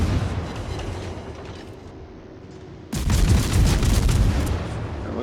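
Heavy naval guns firing in World of Warships, a low rumbling broadband roar that swells abruptly into a loud, sustained barrage of booming salvos.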